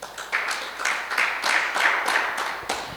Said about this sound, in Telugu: చప్పట్లు కూడా దేవుని వైపరుద్దాం